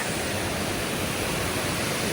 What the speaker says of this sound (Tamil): எல்லா இடத்துலையும் ஒரே மாதிரியே தான் தண்ணி போயிட்டே இருக்குது